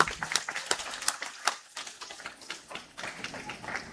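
Scattered applause from a ceremony audience at a Malaysian preschool curriculum programme, uneven claps and taps that thin out and pick up again, moderately distant and fairly soft, with no speech over it.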